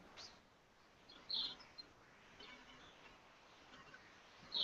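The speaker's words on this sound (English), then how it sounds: "They're sparrows. They've got to make their presence known." Sparrows chirping outside a window, a few faint, brief high tweets in quiet room tone, with one sharper burst near the start and another at the end.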